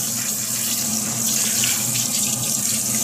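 Tap water streams steadily over a wig as shampoo is rinsed out, a close, constant splashing rush with no break.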